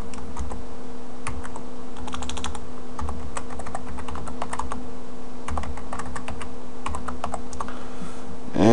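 Computer keyboard keys tapped in quick, irregular bursts while a new password is typed on an Ubuntu machine, close and clear over a steady low hum, with no talking.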